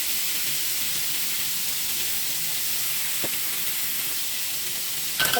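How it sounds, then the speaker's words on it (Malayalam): Salmon grills with butter and rosemary, giving a loud, continuous close-up sizzle and hiss with a couple of brief knocks and no talking. "നമ്മളെ മീനെല്ലാം ഇവിടെ ഗ്രിൽ ചെയ്ത് കഴിഞ്ഞിട്ടുണ്ട്."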